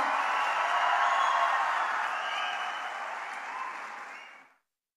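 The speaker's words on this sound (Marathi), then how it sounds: "टाळ्यांचा गजर आपण करायचा आहे" Applause from an audience welcoming a guest speaker, Professor Nitin Bangude Patil, to the stage at a motivational talk, a steady dense clapping that holds loud for about four seconds and then fades out.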